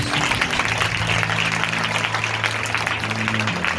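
A large church congregation claps steadily and densely throughout a sermon, a continuous wash of applause with no pauses.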